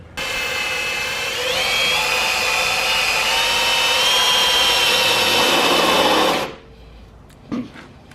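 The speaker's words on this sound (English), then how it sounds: "So I'm going to drill 2 holes, then we'll get this thing mounted." A power drill boring holes into a car bumper in a driveway, a loud, close, steady whine that rises slightly in pitch as it bites and then cuts off abruptly, followed by a faint clunk.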